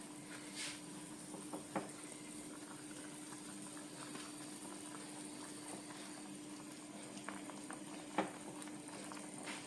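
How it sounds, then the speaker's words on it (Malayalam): Fish molly curry bubbles in a pot at a quiet, steady simmer, with soft gurgles and a few faint clinks over a low continuous hum. "ഇത് കണ്ടോ നല്ലോണം തിളച്ചിട്ടുണ്ട്"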